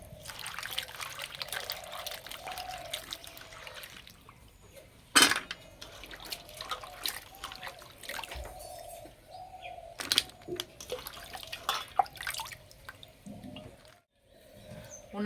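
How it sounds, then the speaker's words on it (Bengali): Sliced potatoes are washed by hand in water, giving intermittent splashes, trickles and sloshing with occasional knocks of a pot, fairly faint and close, with birds in the background. "জল পাল্টে পরিষ্কার করে ধুয়ে নেব।"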